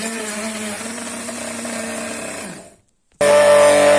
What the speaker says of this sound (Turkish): Sadece bir e, robota ihtiyacımız var. Mutfak robotu ya da blenderla